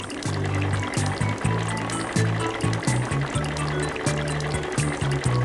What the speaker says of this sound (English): It's time to rinse off the van.